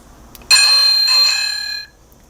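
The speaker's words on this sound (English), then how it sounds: "This is like the bike bell." A WOOC MicroUSB electronic bike bell plays its bicycle bell tone, a bright, clear ringing chime that starts abruptly, holds for over a second and cuts off cleanly in a quiet room.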